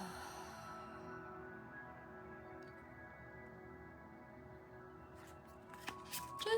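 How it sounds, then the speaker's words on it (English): Tarot cards being shuffled by hand, a steady soft riffling and sliding of card stock for several seconds with no voice, ending in a few sharper taps and flicks as the deck is squared. "we're going to pull one card"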